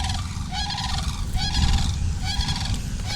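Birds in Florida honk loudly in repeated goose-like calls, several bursts close by over a rumbling background, with no one talking.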